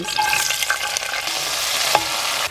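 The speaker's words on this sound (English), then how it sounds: "We're going to fry some raisins." Raisins fry in a hot pan while being stirred for Afghan cooking: a close, continuous sizzle with scattered scraping and light knocks of the stirring utensil, and no voices.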